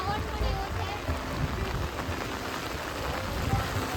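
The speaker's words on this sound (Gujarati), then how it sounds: "એકદમ ફાસ્ટ વરસાદ ચાલુ થઈ ગયો છે ફૂલ." Heavy rain falls steadily in Mussoorie as a dense, constant wash of hiss that stays loud for the whole stretch. There are no clear breaks in it.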